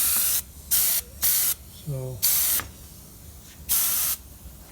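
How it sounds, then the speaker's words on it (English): Bursts of water-based coating sprayed onto a float plane model, five separate hissing blasts in an uneven rhythm, close and loud, with a brief voice between them. "carefully spray everywhere, and this is a water-based spray that is not harmful."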